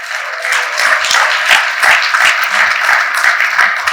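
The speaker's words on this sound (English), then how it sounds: "I just want everybody to just please give her a round of applause" Audience clapping at the Elizabeth Cotten Day celebration in Carrboro, North Carolina, a moderate steady round of applause from a small crowd with distinct individual claps throughout.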